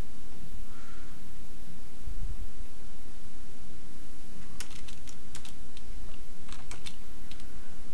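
Quick bursts of keystrokes on a computer keyboard as a database command is typed, a short cluster of taps followed by a second run of clicks over a steady background hiss.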